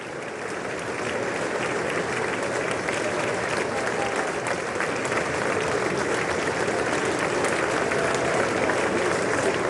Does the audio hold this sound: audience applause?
yes